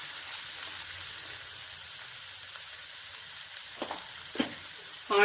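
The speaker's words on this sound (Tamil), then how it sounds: "ஆனியனை கட் பண்ணி அதுவும் சேர்த்துருங்க. ஆனியன் நல்லா குக் ஆகட்டும்" Onions fry in a pan with a constant close hiss and crackle for a coconut milk chicken dish, and a few short voiced sounds appear near the end.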